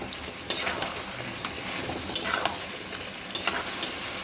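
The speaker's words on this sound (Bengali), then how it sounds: "চিকেনটা কষানো হচ্ছে" Chicken for biryani being sautéed in a pan: a continuous soft frying hiss broken by several sharp scraping strokes of a spatula stirring the meat.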